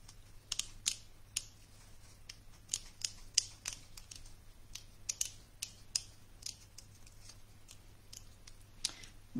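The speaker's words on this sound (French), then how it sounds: "si vous détourez souvent vos papiers à motifs" Scissors cut out patterned scrapbooking paper in quick, crisp snips, irregular clusters of close, sharp clicks over a quiet background with a low steady hum.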